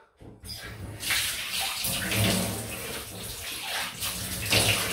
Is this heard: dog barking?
no